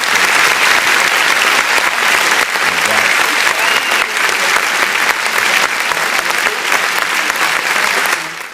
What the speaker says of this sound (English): Let's give her a warm welcome and a warm round of